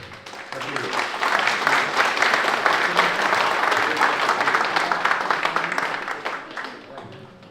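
Steady applause from an audience at a book presentation, dense clapping that holds at full strength for several seconds and fades slightly near the end, with faint voices underneath.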